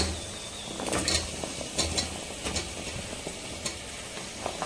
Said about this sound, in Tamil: உருளைக்கிழங்கு, பீன்ஸு, கேரட் எடுத்துருக்கேன். ஸோ இப்போ வந்து சேர்த்துக்கலாங்க.